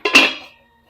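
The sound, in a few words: lid placed over a pot of curry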